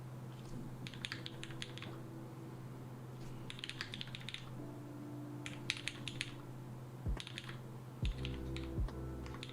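Typing on a TMO50 mechanical keyboard comes in repeated quick bursts of clacking keystrokes separated by short pauses, over a steady low hum.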